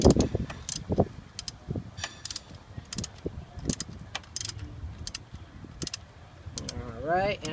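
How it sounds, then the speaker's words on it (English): A socket wrench ratchets in quick bursts of clicks while tightening a bolt on an oil catch can for a 2009-2014 Dodge Ram, close-up, with a person talking between strokes. "So you get your wrench in socket to tighten the bolt in place."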